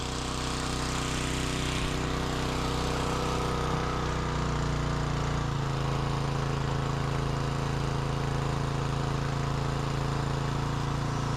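A small petrol engine runs steadily and loudly throughout, a droning grass-cutter motor with a constant rough hum and no voices.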